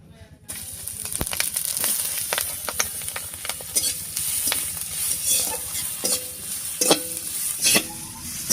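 Green chilies, whole cumin seeds and chopped onion fry together in hot oil with a steady close sizzle, punctuated by frequent scraping and stirring clicks of a spatula against the pan.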